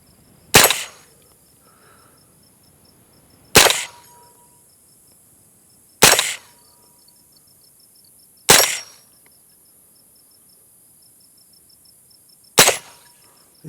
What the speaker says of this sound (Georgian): შევაყენეთ ფეხზე და მოხდება გასროლა.